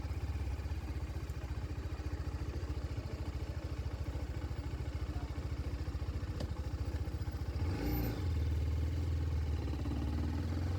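A 2022 TVS Apache RR310 motorcycle engine runs steadily with a low, pulsing exhaust rumble that grows slightly louder and deeper near the end.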